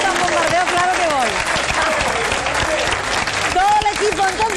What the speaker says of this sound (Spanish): Pues aplauso extra, que ya sabéis que va a gustar un bombardeo